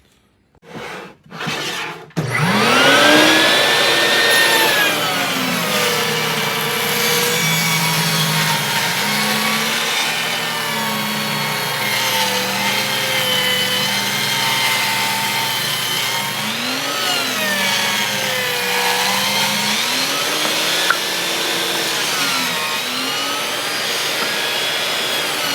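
A saw cuts wood for making business cards, with a few short loud bursts followed by a long, steady, loud whining cut whose pitch rises and falls as the blade works through the wood.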